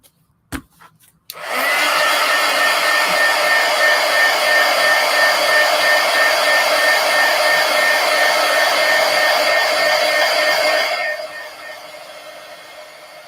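A hair dryer drying paint on a collage switches on after a couple of clicks and roars steadily and loudly at close range for about nine seconds before dropping to a lower setting.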